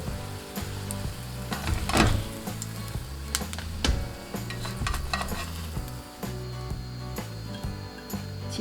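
Korean radish pancakes (mu-jeon) fry in an oily pan with a steady close sizzle and crackle, with light clicks and scrapes of a utensil now and then and no talking.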